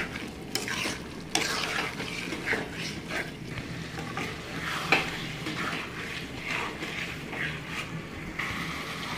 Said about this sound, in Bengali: চালটাকে দিয়ে ভালো করে কষিয়ে নেব।